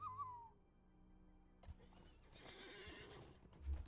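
Horse neighs and hoof clatter in Lord of the Rings Online: a high whinny opens, and after a short quiet, hooves and movement build, louder near the end, with no talk.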